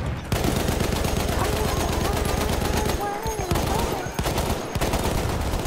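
Dense, sustained automatic gunfire in a Battlefield shooter match, rapid bursts layered continuously with a couple of brief lulls, loud and close throughout.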